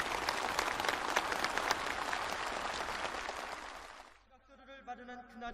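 Enthusiastic applause from a large audience at a presentation ceremony, a dense, steady clapping that fades out after about four seconds into quieter background sound.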